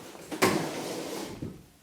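A single kitchen drawer slides open or shut in a home kitchen, a short, quiet wooden thud and rumble fading out, with a faint second knock as it settles.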